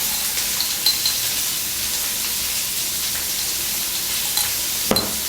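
Green beans and minced pork stir-fry in a hot pan with a steady, even sizzle. Now and then a utensil taps or scrapes, and there is no talking.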